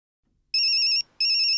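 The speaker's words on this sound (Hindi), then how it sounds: "ये बाघा क्यों फोन कर रहा है?" A phone rings with an incoming call in a Hindi comedy sitcom. Two loud, bright electronic ringtone bursts are separated by a brief gap, with nothing else heard.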